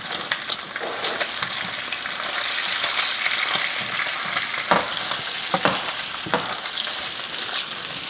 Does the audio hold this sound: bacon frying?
yes